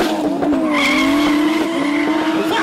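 Drag racing cars at a quarter-mile event scream loudly, with tyres squealing and burning over a sustained, rising engine whine. No one speaks over it.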